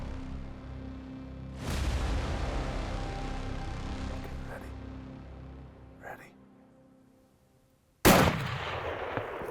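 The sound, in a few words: rifle shot at an elk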